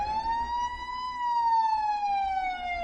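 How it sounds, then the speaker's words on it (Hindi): A police siren wails loudly and close, one long rising and falling tone held throughout with a low rumble beneath. "तभी दरवाजे से पुलिस सायरन्स की आवाज सुनाई दी।"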